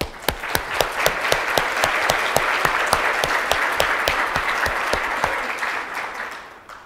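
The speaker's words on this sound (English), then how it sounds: "I want to give a round of applause to everyone in the room that worked their butt off" Sustained audience applause for project volunteers at a scientific conference plenary, a dense wash of clapping with sharp individual claps standing out throughout, fading slightly at the end.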